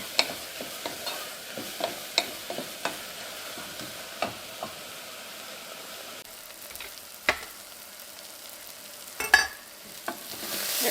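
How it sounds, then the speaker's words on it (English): Salted onions sauté in a pan for lasagna, a soft continuous sizzle broken by repeated sharp clicks and scrapes of a utensil against the pan, with a few louder knocks late on. "Our onions are actually starting to get a little color"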